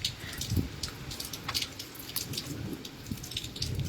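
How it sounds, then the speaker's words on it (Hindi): Rain falls steadily on a village in the hills of Reasi, a continuous hiss with scattered close drips and patters, heard alone at a moderate level with no talking. "फिलहाल रियासलाल गांव में बारिश हो रही है"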